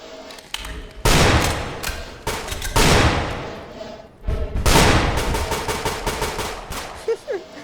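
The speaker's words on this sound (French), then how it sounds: "On tire des balles de partout, ça les touche même pas." Video game gunfire comes as loud, sustained automatic bursts. Dense volleys roll one after another, with brief gaps and a few sharp single shots near the end.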